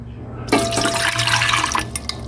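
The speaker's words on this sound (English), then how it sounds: "So now rinse it with some water." Water pours into a beaker to rinse gold powder during refining, starting abruptly as a loud continuous splashing pour that runs for over a second before tapering into smaller trickles.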